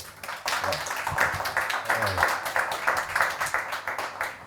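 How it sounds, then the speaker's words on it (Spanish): An audience at an executive program event with a former president applauds, a dense, steady round of clapping that swells and holds close and loud. "Pido un aplauso."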